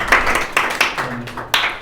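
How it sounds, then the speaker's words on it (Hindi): A handful of separate claps ring out from a small audience in a room, loud and close, irregularly spaced rather than building into full applause. "इनके लिए एक जोरदार ताली लगा दें"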